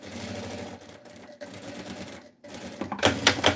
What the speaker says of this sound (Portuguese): Daí você vem aqui, dá um retrocesso e costura.